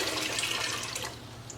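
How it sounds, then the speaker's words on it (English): Lukewarm water poured from a cup into a bowl, a steady close splashing pour that runs loud for about a second, then settles to a softer trickle. "I have 2 more cups I'm gonna add in"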